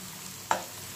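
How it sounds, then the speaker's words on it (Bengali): Kakrol, spiny gourd, fries in a pan with a soft continuous sizzle, broken by one short bright scrape or clink from stirring midway. "কাঁকরোলের ভাজাটা করছি"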